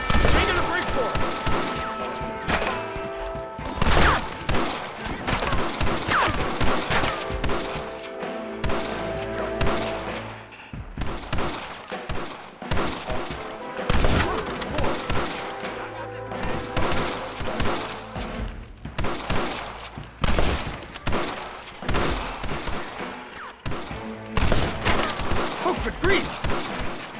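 Dense, sustained gunfire shootout from the Red Dead Redemption video game, with rapid volleys of rifle and pistol shots, crashes and impacts in a loud, continuous battle, with shouting voices mixed in.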